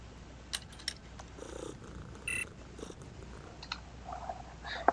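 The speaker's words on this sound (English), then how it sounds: "Oh, the kitty cat" A cat purrs softly and steadily in the video game Underrail, a gentle continuous rumble with scattered faint game blips and clicks over it.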